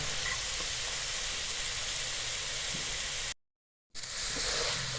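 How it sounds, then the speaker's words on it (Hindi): Finely chopped cauliflower frying in a pan, a steady close hiss of sizzling oil that cuts out briefly near the end before resuming. "गोभी भी हमारी अच्छी तरह भुन चुकी है।"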